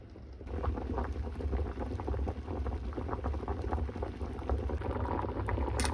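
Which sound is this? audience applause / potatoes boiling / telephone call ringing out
potatoes boiling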